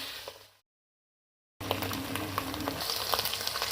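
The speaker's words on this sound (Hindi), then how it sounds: "अब इसको हम अच्छी तरह भून लेंगे।" Minced meat keema with green chillies sizzles and crackles steadily in a hot pan, close up, after a brief silent gap, with occasional stirring clicks.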